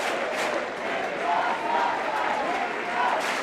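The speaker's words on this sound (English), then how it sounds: "And the crowd, pro Sockeye cheers." A crowd cheers at the open final of an ultimate frisbee world club championship, a steady roar of shouting spectators with a few whistles rising over it, held at a moderate distance throughout.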